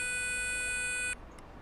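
A Power Probe 4 circuit tester touched to ground gives one steady electronic beep lasting about a second before cutting off, leaving faint background hiss.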